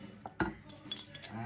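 A utensil stirs paprika mushroom sauce in a pan, giving a few soft scrapes and light metallic clinks against the pan, close and quiet.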